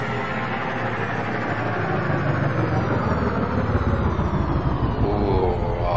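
A steady, loud spaceship engine boost roar in the video game Elite Dangerous, from an Imperial Clipper, with a deep rumbling low end, holding constant throughout like a powerful thruster running.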